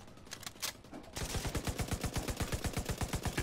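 Sustained automatic bursts from an M60 machine gun in The Division 2, a rapid, even train of loud close shots kicking in after a quieter opening of ambient game noise.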